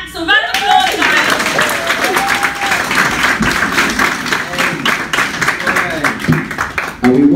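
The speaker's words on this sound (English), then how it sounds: "Round of applause, guys!" Audience at a guest speaking event clapping after a speaker is introduced, bright close-up applause with some cheering, while voices speak over it near the start and end.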